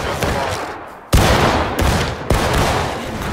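Musket volleys ring out in the Civil War game War of Rights: three loud, ragged bursts of massed gunfire crackle one after another, each spreading into a rolling roar, with shouted voices faintly mixed in.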